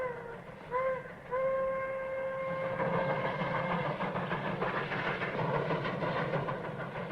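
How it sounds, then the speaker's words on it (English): A steam train with a smokestack runs on rails and gives two short, loud whistle blasts followed by a long sustained one. A rumbling, rhythmic chug from the running train continues underneath. "Smokestack's rolling that train."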